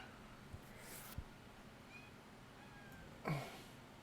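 A house cat gives a couple of faint, short meows over low room hum, with a slightly louder call near the end, quiet and somewhat distant indoors.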